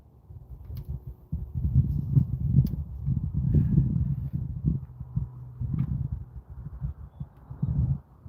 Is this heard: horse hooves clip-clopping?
yes